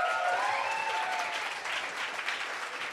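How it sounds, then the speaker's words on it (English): Audience applause at a state poetry recitation competition finals held at a literary center, steady dense clapping filling the room throughout, loud and close, with no voices over it. "So please give yourself a round of applause."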